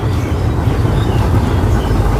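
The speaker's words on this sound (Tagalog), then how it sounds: "So naririnig niyo yung train." A train passing near a lake house, a loud, dense low rumble and rolling roar heard up close and steady throughout, with no talk.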